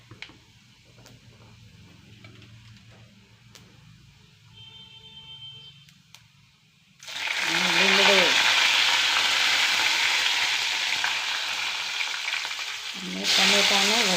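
Mustard seeds, cumin and fenugreek hit hot oil for a moong curry, so after a quiet stretch of faint kitchen ticks a loud, close sizzle bursts in halfway through and keeps going, with a second surge near the end.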